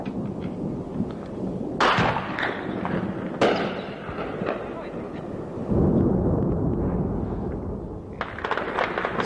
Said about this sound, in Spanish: Siguen las explosiones en el aeropuerto que podrían ser originadas, además de las bombas, por los combustibles que explotan.